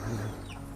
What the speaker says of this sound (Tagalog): Yun ang tandang